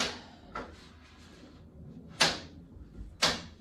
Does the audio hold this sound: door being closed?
yes